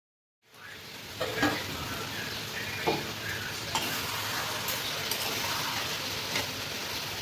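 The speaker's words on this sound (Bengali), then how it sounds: "আলু আর ক্যাপসিকামগুলো মিক্স করে নিচ্ছি" Chicken kosha with potatoes and capsicum sizzles in a pan while being stirred, a steady close frying hiss with occasional soft scrapes and taps of the spoon.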